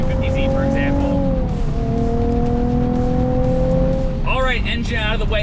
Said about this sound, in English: the actual engine itself makes a really pretty noise